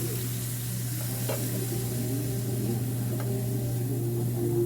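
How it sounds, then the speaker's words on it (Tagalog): Pork simmering and sizzling in a pan after a splash of water for adobong Baguio beans, a steady close hiss with a constant low hum and a couple of faint clinks, no talking. "Lagyan po natin ito ng konting water para po sa pagpapalambot ng ating pork"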